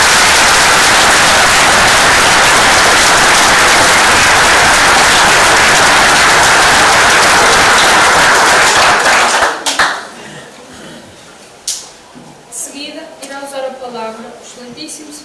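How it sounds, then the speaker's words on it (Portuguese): Audience applause honouring volunteer firefighters at an anniversary ceremony for the Fajões fire brigade association, dense and loud for about nine seconds, then cutting off abruptly to a quiet hall with a few faint knocks and low murmurs. "termino dando uma grande salva de palmas e um viva aos bombeiros de Fajões"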